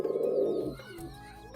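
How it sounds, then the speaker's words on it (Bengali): Pigeons cooing and murmuring in a loft while adults feed and peck at their young, a strong close burst first that fades to softer low calls. "কবুতরগুলো খাওয়াচ্ছে এখন"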